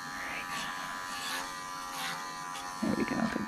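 Electric clippers buzz steadily while shaving down a Cocker Spaniel, a close continuous hum with slight shifts in pitch as the blade moves through the coat, and a brief bump of handling noise near the end.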